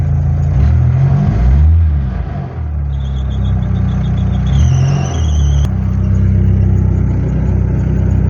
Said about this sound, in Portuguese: Aí quando você acelera o carro